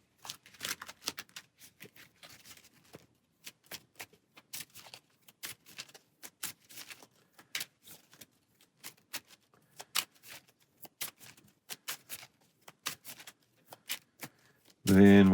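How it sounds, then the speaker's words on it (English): Arkham Horror card game cards are shuffled by hand up close, a long run of quick, crisp riffles and snaps in uneven bursts, ending in a sudden louder noise. "So first we shuffle."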